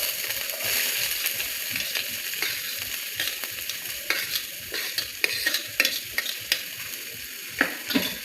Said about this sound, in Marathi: हे बघा, आपलं पॅनमधलं तेल चांगलं गरम झालेलं आहे। आता मी याच्यात आपले 2 कट केलेले कांदे टाकणार आहे।